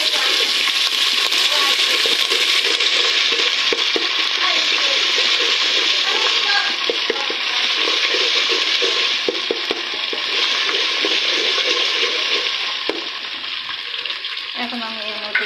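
Ginger-garlic paste sizzles and fries steadily in hot oil in a pan over lowered heat while being stirred for bhuna khichuri, a loud continuous crackle with scraping strokes throughout.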